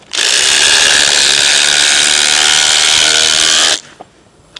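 Milwaukee and DeWalt impact drivers run in one loud, steady, buzzing burst lasting nearly four seconds, then cut off abruptly, leaving near silence.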